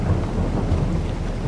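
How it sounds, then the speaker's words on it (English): Rain and rolling thunder from the Farming Simulator video game, set on a Florida-style Emerald Coast map, with a steady rumbling wash that holds for over a second with no talking. "It's starting to rain."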